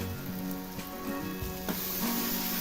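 Turmeric-spiced masala frying in oil for egg curry, sizzling steadily and loudly throughout, with a brief scrape of stirring partway and no talk over it.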